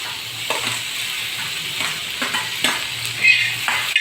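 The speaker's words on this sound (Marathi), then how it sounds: "टॅमॅटो पहा हे टॅमॅटोसुद्धा मी भाजून घेते" Tomatoes roast and sizzle in a pan, with a steady frying hiss broken by a few brief stirring clicks and scrapes; the sound is close and fairly loud, with no talking.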